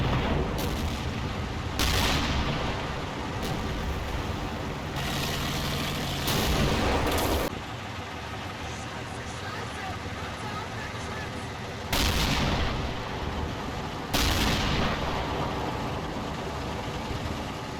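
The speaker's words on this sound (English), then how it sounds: "They get a spot and immediately open fire." Gunfire in the World War II tactics game Combat Mission, with bursts of loud, dense shooting and explosions breaking out repeatedly over a steady rumbling battlefield background.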